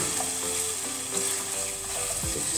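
Hot pepper, sliced garlic and vegetables fry in a pan, giving a steady, close sizzle with a faint stirring scrape and no talk.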